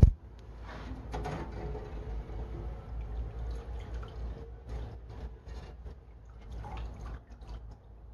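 A basket full of hot water is lifted out of an ultrasonic cleaner used to clean a carburetor. Water splashes and drips close by in uneven bursts, with a sharp knock at the start and some sloshing.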